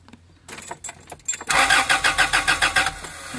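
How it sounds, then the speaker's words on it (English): A Toyota Tarago/Previa (TCR11) has its ignition turned on: a few sharp clicks, then the starter cranks the engine in a steady, loud rhythmic chug of about a dozen even pulses, close by. "when I turn the ignition"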